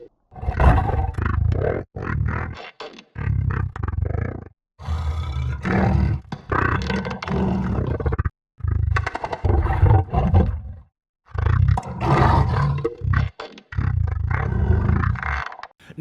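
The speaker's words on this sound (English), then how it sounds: "the Sea Emperor sounds definitely sound extremely creepy. It's like a mix of roars, clicks, and just random noises that's been slowed down" The Sea Emperor from the video game Subnautica calls in long, deep, roaring bursts blended with clicks and strange slowed-down noises, about six loud calls separated by brief silences.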